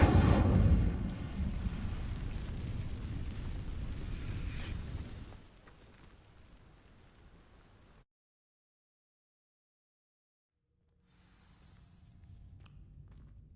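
A fire spell from Hogwarts Legacy sets dry vines ablaze: a loud, roaring whoosh of flame that rumbles for several seconds, fades into a low crackle, cuts to silence, then faint burning noise returns.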